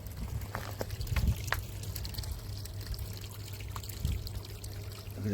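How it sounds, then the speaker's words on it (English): Water spilled from a wheelie bin compost system runs down outdoor steps, a soft continuous trickle with scattered drips and small splashes, faint and close. "It's a waterfall running down the steps."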